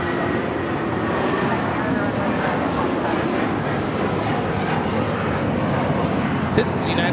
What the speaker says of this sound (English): 1635 taking off to Washington Dulles on the 757-300